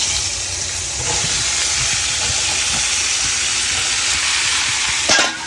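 Raw ridge gourd fries in a pan with a loud, steady, close sizzle and hiss, while a brief scrape of stirring comes near the end.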